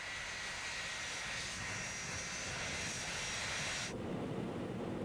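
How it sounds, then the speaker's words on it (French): A jet airliner's engines roar in a steady, loud, broadband wash that cuts off sharply near the end, leaving a lower rumble. "C'est le premier avion de ligne à réaction"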